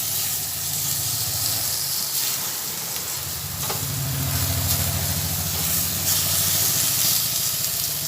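Chopped tomatoes sizzle and hiss loudly in a pan with spices for chicken ghugni, a continuous dense frying crackle with steam and a low stirring rumble underneath, no voices.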